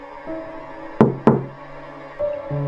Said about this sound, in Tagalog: 2 katok lang